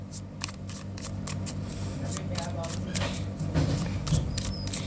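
Tarot cards are shuffled close by, with a quick run of soft riffling flicks and slaps over a steady background hum.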